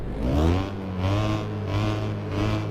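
Race car engine in the Assetto Corsa racing game at a 24 Hours of Le Mans start, roaring and revving in repeated rising and falling surges, loud and close.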